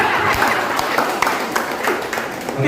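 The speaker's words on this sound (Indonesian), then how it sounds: "Tepuk tangan kepada guru dan murid." An audience at a priesthood anniversary celebration applauds a teacher and student, a dense steady wash of many hands clapping at moderate distance with faint voices underneath.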